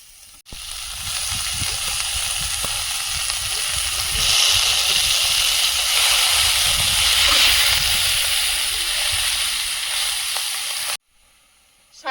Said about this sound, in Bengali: রসুন দিয়ে কাঁকড়াটা ভালোভাবে ভেজে নিয়েছি এখন শাকটা দিয়ে দেবো